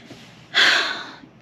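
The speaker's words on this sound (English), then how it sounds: "one sniff of this thing" A single sharp sniff of a sandalwood-based perfume, close and clear, about half a second of inhaled air that fades out quietly.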